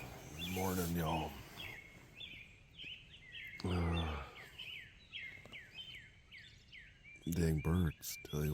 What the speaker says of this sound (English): Dang birds, tell you what.